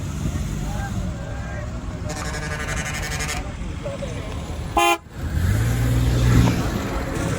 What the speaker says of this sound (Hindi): ऐसा ट्रैफिक जाम आपने शायद ही पहले देखा हो मंडी में।